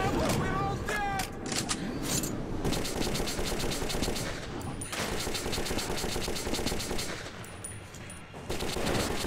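Gunfire rips through a rail car ride in the video game Metro 2033, with loud, rapid automatic bursts and dense clatter that barely pause, while voices shout over the shooting.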